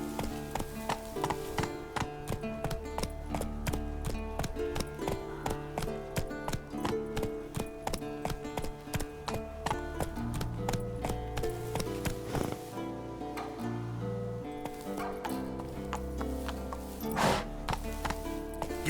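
Rhythmic hoofbeats of a galloping horse in The Witcher 3: Wild Hunt, steady and fairly loud, running continuously beneath a dense layer of orchestral game music.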